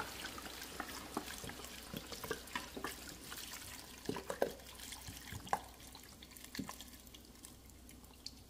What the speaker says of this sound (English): Top it off with the beef broth